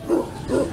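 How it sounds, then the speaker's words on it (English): Two short, muffled barks from big dogs at a closed park, sounding somewhat distant and fairly faint, with a brief pause between them. "They got lots of big dogs though, but not for us."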